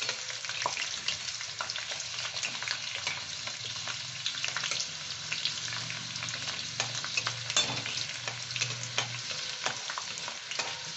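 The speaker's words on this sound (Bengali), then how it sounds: "প্রথমটাই খুব ফাটতে থাকে তারপর আর অতটা হয়" Crispy corn kernels fry in hot oil with a steady close sizzle, dense crackle and scattered sharp pops throughout, with no talk.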